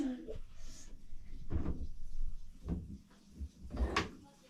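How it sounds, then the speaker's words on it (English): A few soft thuds and clunks as a freeze dryer door is handled and pulled open, with a voice and adult murmurs nearby. "All right, Wesley, would you like to open the door for us?"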